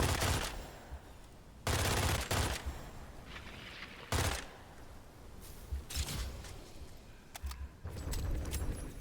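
Heavy gunfire from a gun in the video game Witchfire comes in loud, dense bursts, with quieter rattling and clicks filling the gaps between volleys.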